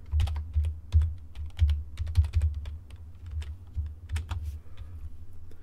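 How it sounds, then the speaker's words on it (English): Someone types a username and password on a computer keyboard, producing quick irregular clusters of soft key clicks with brief pauses between bursts, close and clear with no voices. "We'll put our username in here. And then our Proton password."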